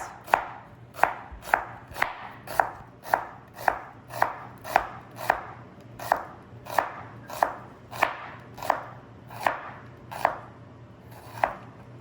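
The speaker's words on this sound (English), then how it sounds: "And now, last, the white sweet onions. All I'm gonna do is thin slices." Knife slicing white sweet onions thinly on a cutting board: about eighteen crisp, evenly spaced chops in a steady rhythm, close and clear, with no voices.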